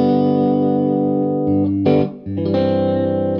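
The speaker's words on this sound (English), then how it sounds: "I'm playing this Strat-style guitar into a Benson Dizzy Bird, and this is what this sounds like straight into the amp." Strat-style electric guitar played straight into a Benson Dizzy Bird amp, a sustained distorted chord that fades, then a short picked burst and another ringing chord, loud and close.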